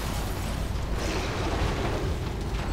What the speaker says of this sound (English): What nice explosions.